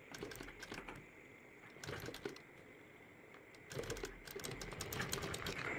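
Sewing machine stitching piping onto a collar, quiet rapid needle chatter in short bursts with brief pauses, then a longer continuous run near the end, close and steady.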